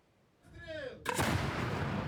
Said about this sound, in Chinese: 乌克兰士兵用美制109自走炮对俄军发动攻击